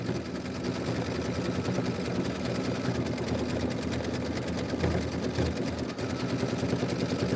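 A sewing machine stitches an embroidery design in a steady, continuous rapid whir that runs throughout at even loudness, with no talking.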